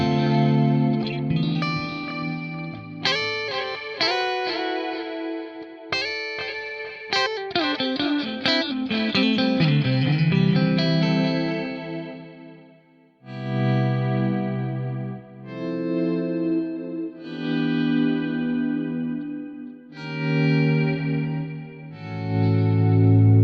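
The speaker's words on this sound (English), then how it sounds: "It's helping the delays kind of sit better mixed in with the original guitar" Electric guitar played through a Fractal Audio AX8 delay with the high end rolled off and gritty drive on the repeats, chords and melodic lines trailing soft echoes, steady and up front with brief pauses.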